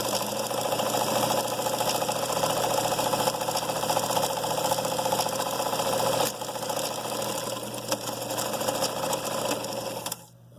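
A vintage late-1970s Japanese Sears Kenmore 158.17540 sewing machine runs steadily at close range while sewing a wide zigzag stitch, giving a continuous mechanical whir with a rapid rhythmic clatter that dips briefly partway through and stops near the end.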